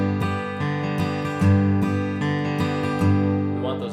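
Close acoustic guitar playing a steady boom-chuck rhythm, firm bass notes alternating with quick down and up strums on the high strings.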